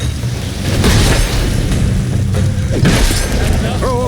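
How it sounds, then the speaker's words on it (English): A bomb thrown in The Witcher 3 goes off as a loud, close blast with a heavy rumbling boom that rolls on, followed by a second thump and lingering debris noise. "Throw a bomb."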